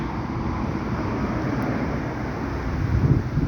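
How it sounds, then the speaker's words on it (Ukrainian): Steady low rushing wind buffeting the microphone in a garden before rain, a constant broadband roar that swells slightly toward the end. "О, зривається вітер"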